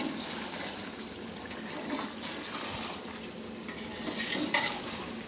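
Chicken and potatoes sauté in a pan as they are stirred together, making a soft continuous sizzle under repeated scraping and light clinks of a utensil, fairly quiet and without voices.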